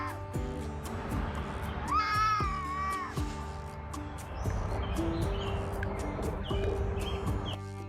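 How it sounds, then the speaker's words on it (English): A wild fox screams at a house cat near a home, giving a drawn-out, wavering cry over a dense background of music and ticking noise. "A wild fox screamed at the house cat for a long time"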